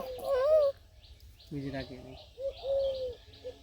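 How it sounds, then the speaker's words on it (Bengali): Doves call in a village setting with a few short cooing and chirping notes, mixed with people talking nearby. "ওই যে ডাক পানছে ঘুঘু"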